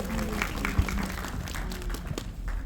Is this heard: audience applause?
yes